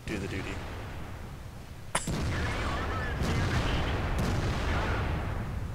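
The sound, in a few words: tank cannon firing in a tank video game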